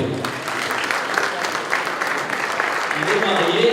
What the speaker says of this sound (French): Applaudissez-le très fort, s'il vous plaît.